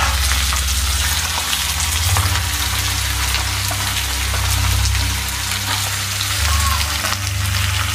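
Potatoes and eggplant fry in a pan with a steady, dense sizzle that fills the whole stretch, a low rumbling hum running beneath it.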